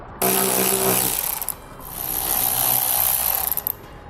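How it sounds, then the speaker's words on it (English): Power driver or ratchet spinning a 5/16 socket to remove bolts on a 2016 BMW X5 during a trailer hitch install: loud buzzing whir, then a short pause and a second long run, close and alone. "we want to remove these 3 bolts here, and we're going to do the same thing on the other side. We're going to use a 5/16 socket"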